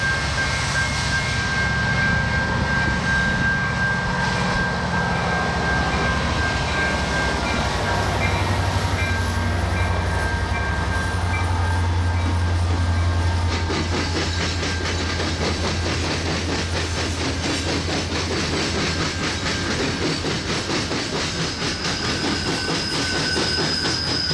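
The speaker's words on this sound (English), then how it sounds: "A westbound local on the EJ&E appears about an hour later. Check out this lash-up." A westbound Elgin, Joliet and Eastern local freight train with an original orange SD38-2 locomotive trailing rolls past, loud and steady throughout, with rumbling engine drone, clickety-clack of wheels over rail joints and a faint high wheel squeal.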